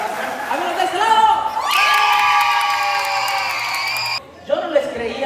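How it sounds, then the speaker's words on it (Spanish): Audience at an anniversary show shouting and cheering loudly, with sustained voices and whoops, a brief drop, then more crowd noise resuming. "Brice, gritos y aplausos por este lado."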